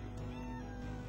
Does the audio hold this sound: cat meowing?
yes